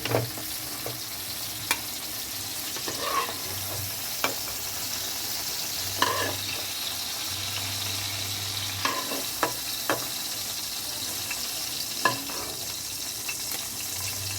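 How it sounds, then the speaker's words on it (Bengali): Sliced pointed gourd sizzles steadily in hot oil in a kadai, browning to a reddish color. A continuous close frying hiss runs throughout, broken by occasional sharp clicks of a spatula stirring the pieces. No one speaks. "দেখুন পটলটা ভাজা হবে, দেখুন লাল লাল হয়েছে ভাজা।"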